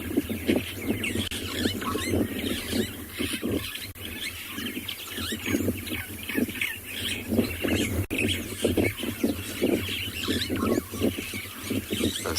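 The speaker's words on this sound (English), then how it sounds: "It's very common for birds when they find a snake to mob it, to make a lot of noise." Two species of starling mob a snake during a morning safari, giving harsh, noisy squawking calls in rapid overlapping bursts, loud and close, continuing throughout with no talking.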